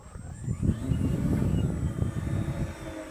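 A model army warplane with four electric motors, each with about 4 kg of thrust, spinning carbon fibre propellers, flying in calm evening air and giving a steady, buzzing drone that swells and holds, with slight wind noise.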